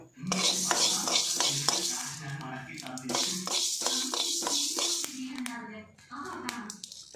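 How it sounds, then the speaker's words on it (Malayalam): Fenugreek seeds for mango pickle roast in a pan, a close steady sizzle and crackle with repeated metal spoon scrapes and clinks, under continuous talk from an adult and a child. "ഉലുവ വറുത്തിടാനായിട്ട് ഒരു സ്പൂൺ നമ്മൾ ഇട്ടിട്ട് ഒന്ന് വറുത്തെടുക്കുന്നുണ്ട് കേട്ടോ"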